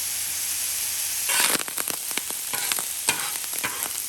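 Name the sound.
rice sizzling on a Blackstone griddle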